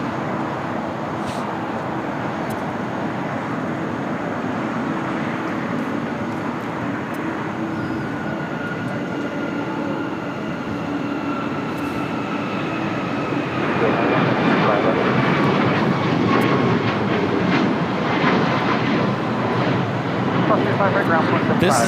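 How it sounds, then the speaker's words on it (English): United Airlines Boeing 737 MAX 9 taking off from Los Angeles International Airport for Chicago O'Hare, a loud, continuous jet engine roar with rising whine tones that swells further as the takeoff builds, with talking beneath it. "This is United Airlines 2347 taking off to Chicago O'Hare on a MAX 9."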